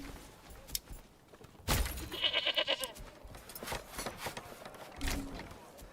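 Goats bleating around a goat shed in the medieval city-builder game Manor Lords, a few wavering bleats rising over quiet ambient game sounds with brief soft clicks, sounding fairly close.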